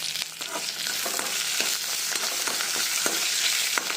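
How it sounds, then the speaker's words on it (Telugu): Curry leaves and spices sizzle in hot oil for a Telugu-style tempering for wood apple (velakkaya) chutney, a steady close crackling fry with faint stirring clinks throughout. "కొద్దిగా ఒక రెమ్మ కరివేపాకు కూడా వేసి ఫ్రై చేసుకోవాలి"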